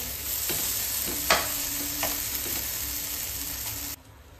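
Okra (bhindi) cooking in a pan over a low gas flame, a continuous close sizzle with a few soft scraping stirs and clinks, cutting off sharply near the end.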